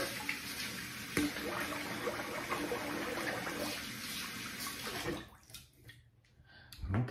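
Tap water runs steadily to rinse a double-edge safety razor after shaving, a close continuous splashing flow that fades and stops near the end.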